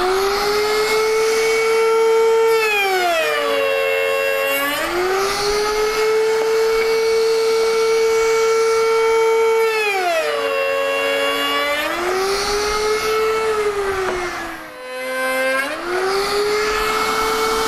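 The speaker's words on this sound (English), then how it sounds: "Turn the router on." An electric router cutting grooves into the ends of wooden doors held in a clamp, its loud steady whine dipping and rising again in repeated cycles as each pass is pushed through, with no talking.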